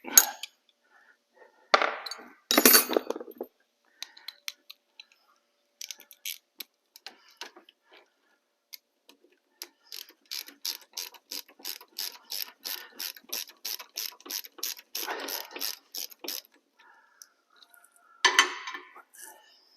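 A socket wrench ratchets in a long, even run of close clicks while loosening a brake caliper bolt on a Spec Miata MX5, with scattered metallic clanks of tools and parts before and after.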